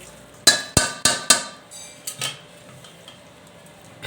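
Metal cooking pot picked up and set down while preparing finger millet, giving four sharp clanging knocks in quick succession followed by a couple of softer scraping clinks, close and with no talking.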